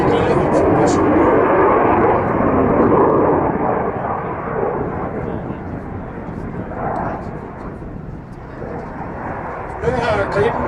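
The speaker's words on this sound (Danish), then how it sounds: "Nu har Gripen JS 39 understillet ud og lægger an til landing." A JAS 39 Gripen fighter jet approaches to land at an airshow, a loud broad roar that swells then gradually fades, with commentary heard over it.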